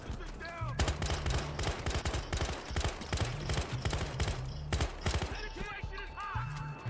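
Rapid gunfire in Battlefield Hardline, a game set in a Conquest match on the Code Blue map, fast repeated shots in bursts with a player talking over them.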